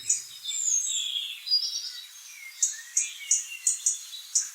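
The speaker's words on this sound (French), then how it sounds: "Sarah aime par-dessus tout écouter les oiseaux chanter." Morning birdsong from small birds in an apple tree by a window: varied chirps and warbles at first, then a run of six or seven short, bright repeated calls at an even rhythm, fairly close and clear with no voices.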